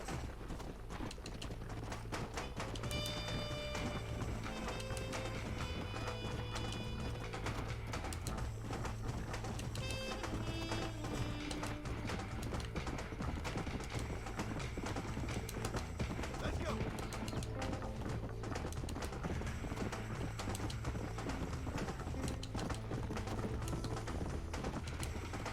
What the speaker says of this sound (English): you have to ride your horse to everywhere